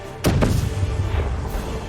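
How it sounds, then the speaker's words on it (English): A single heavy cannon boom in the video game Guild Wars 2 with a sharp onset, followed by a shorter second thud, over a steady low background rumble. "They've got cannons!"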